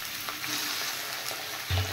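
Potatoes and parboiled taro (kochu) fry in oil with cumin, dried chili and bay leaf, giving a steady close sizzle with light stirring scrapes and a louder hiss swelling near the end.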